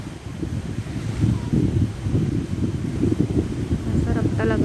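Wind blows across the microphone at Labrador Park on an overcast, breezy day, a constant low gusty rumble that stays loud throughout, with a brief faint voice near the end.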